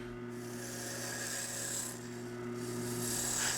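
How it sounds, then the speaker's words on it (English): A 10mm gouge shaping a wooden box lid on a lathe, giving a continuous close rubbing, rasping cut over the steady hum of the spinning lathe, with slight swells in intensity and no talk. "I use a 3/8 or 10mm gouge to shape the lid."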